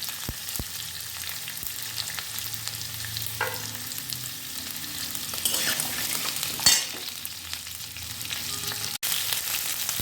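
Pumpkin and capsicum curry sizzles steadily in a pan while being stirred, with scraping and clinking of the spoon over a constant frying hiss.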